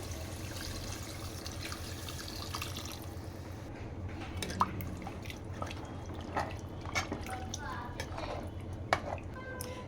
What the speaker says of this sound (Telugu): హాఫ్ లీటర్ వాటర్ వేసుకోవాలి